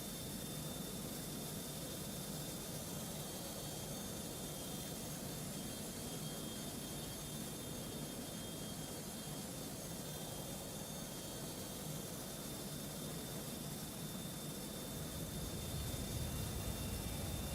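Steady broadband jet engine roar from an iniBuilds A300-600R airliner in the X-Plane 12 flight simulator, a continuous even drone with a constant high whine, swelling slightly louder near the end.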